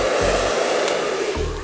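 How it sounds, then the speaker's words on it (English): A hair dryer blows steadily and loudly up close, a constant whooshing roar with a slight shift in tone partway through. "So hairdryer is plugged in"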